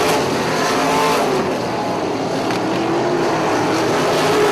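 Non-wing sprint cars racing on a dirt track, a loud, continuous roar of several engines close by that holds steady at full throttle.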